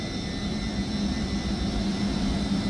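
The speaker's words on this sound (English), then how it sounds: "Got the engine running." A steam locomotive-era train engine runs with a steady, low mechanical hum and hiss, a continuous moderate drone heard alone without speech.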